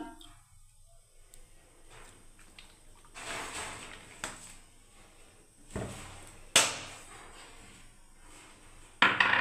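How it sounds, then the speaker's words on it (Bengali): A wok is set down on a lit gas stove and oil goes in, giving scattered metallic clanks and knocks of varying loudness against a quiet background, with a couple of sharper clatters near the end. "বন্ধুরা গ্যাস জ্বালিয়ে দিয়েছি, কড়াই চাপিয়ে দিয়েছি বন্ধুরা, তেল দিয়ে দিলাম।"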